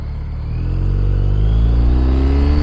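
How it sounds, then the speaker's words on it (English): Steady road traffic at rush hour in a major American city, a continuous loud low engine rumble with a car accelerating and building slightly in intensity, no voices. "Rush hour traffic sucks"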